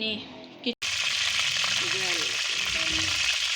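Ghee sizzles steadily in a kadhai on the stove, with sugar frying in it, a continuous broad hiss after a brief clatter at the start, with faint bits of stirring and background noise throughout.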